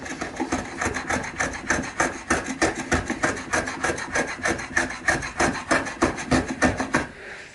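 A block plane shaves a timber edge with light passes to take out saw marks, giving a steady run of close, rhythmic rasping strokes with no talk.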